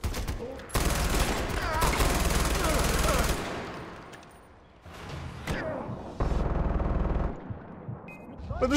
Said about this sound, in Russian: У меня же есть пулемет.